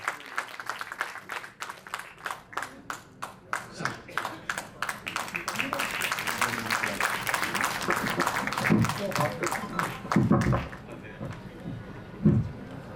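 Audience applause welcoming Lieutenant General Arvind Rawat to the stage in an auditorium: dense, sustained clapping from a crowd that swells and continues for several seconds, with a few louder bursts near the end.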